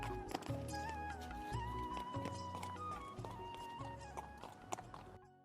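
A horse's hooves clip-clop along in a steady walking rhythm, close and clear, with a faint tune playing beneath them.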